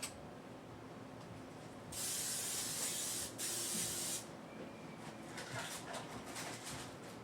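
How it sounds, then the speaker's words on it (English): Cooking spray hisses onto a baking pan in two close bursts of about a second each, followed by softer, shorter sputters. "I'm going to spray this pan."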